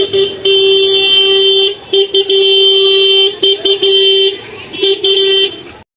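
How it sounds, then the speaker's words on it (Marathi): Busy night traffic on a narrow, crowded road near the Mahalaxmi temple in Kolhapur. Repeated loud car horns blare close by in long and short honks over an engine rumble. "रस्ता आहे ना रोड बारका असल्यामुळे ट्रॅफिक पण तेवढा होतो"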